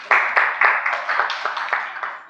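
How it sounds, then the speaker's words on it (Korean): An audience claps in a dense, steady burst of applause at a Korean public forum on the May 10, 1948 general election. It is fairly loud and close, with sharp onsets throughout. "박수로 부탁드리겠습니다."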